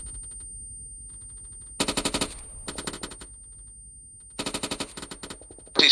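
Machine gun fire in Arma 3 during a machine gunner training course: loud rapid bursts after a quiet stretch, a long burst, a shorter one, then another long burst, close and sharp.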